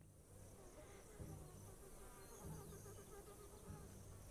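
A soft, steady insect-like buzz resembling bees drones in the video game This Land Is My Land, faint and continuous, with low periodic thumps recurring roughly every second.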